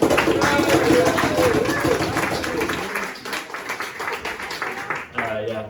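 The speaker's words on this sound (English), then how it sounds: "So a round of applause for Joe!" A live audience at an evening poetry and performance night applauds the host, Joe, with dense clapping and some crowd noise that gradually thins and fades out.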